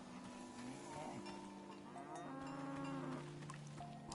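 A cow in the video game Season: A Letter To The Future lets out a long, drawn-out moo with wavering tone over a faint background bed, fairly close and steady, with no talk.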